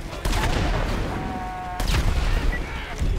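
Gunfire in the video game Grand Theft Auto V (GTA 5): a few sharp, loud bursts of shots over continuous game background noise, with a gap between the volleys.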